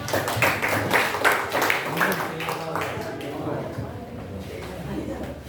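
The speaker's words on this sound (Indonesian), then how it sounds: "Beri tepuk tangan" Students in a classroom clap in a short burst of applause that soon fades, giving way to a teacher's voice talking over the quieter room.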